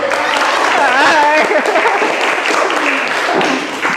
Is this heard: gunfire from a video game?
no